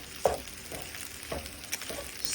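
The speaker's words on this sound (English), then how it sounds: "I'm going to put my bacon back in, and I'm going to continue to stir" Spatula stirring fried rice with chunks of egg in a hot pan, soft scraping strokes at a slow pace over a faint sizzle, fairly quiet, no talk.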